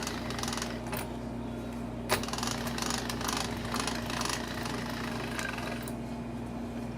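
Pasta dough is fed through a pasta machine, a steady close mechanical hum with faint ticks and one sharp click, running continuously without talk.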